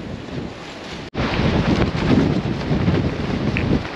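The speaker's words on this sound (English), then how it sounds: "You can see how bloody windy it is, it's kicking waves up." Strong wind buffets the microphone beside Ullswater lake, where gusts are whipping up waves; a brief dropout is followed by steady, loud, rumbling wind noise that continues to the end.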